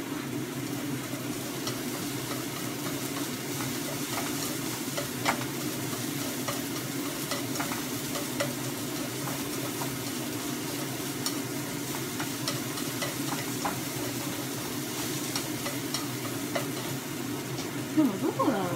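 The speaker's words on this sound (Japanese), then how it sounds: "また炒めていきます" Ingredients for omurice stir-fried in a pan: a continuous close sizzle with frequent scraping and stirring clatter throughout.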